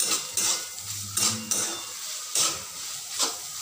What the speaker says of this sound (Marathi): छान असं फ्राय करून घ्यायचं